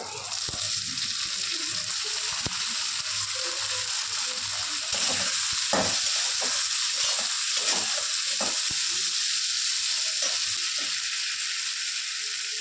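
Potato pieces drop into hot oil with ginger already in the pan, raising a steady loud sizzle broken by short clicks and scrapes of stirring.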